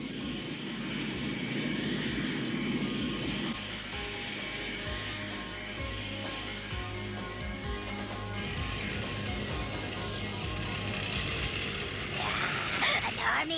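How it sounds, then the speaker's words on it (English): Drone fighter aircraft flying in an animated He-Man cartoon give a continuous droning engine roar that swells and shifts in pitch, moderately loud, blended with music and dialogue. "Here come our drone fighters."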